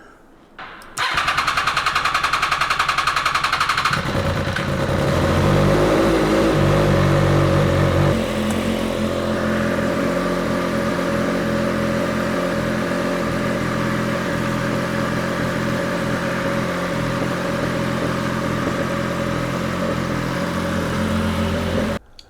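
An MV Agusta F3 motorcycle engine cranking and firing up nearby, a loud high-revving burst settling into a steady, buzzy idle that runs on for most of the clip.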